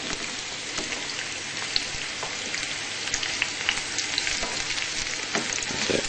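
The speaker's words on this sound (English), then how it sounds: "So just turn those mushrooms around." Mushrooms frying in oil in a pan and being turned for an English breakfast: a steady, loud, dense sizzle throughout, with occasional soft scrapes and pops as the pieces are moved, and no voices.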